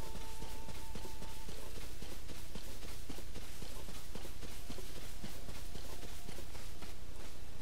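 A horse's hooves clip-clop in Zelda: Tears of the Kingdom. The beats are quick and regular and keep up a close, continuous trot, with faint tones in the background.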